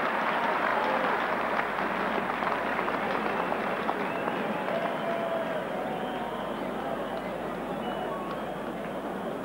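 Steady applause from a large crowd at a 1991 England v West Indies one-day cricket match at Lord's, a continuous even patter of clapping that holds at the same level throughout.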